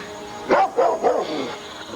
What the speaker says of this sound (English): Underneath all that snarling and bristling, you're quite a nice dog.